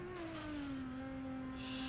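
An RB26DETT-swapped Nissan Silvia S14 revs hard in a racing video game, a steady, loud, high engine tone that sags slightly and then holds near the top of the rev range.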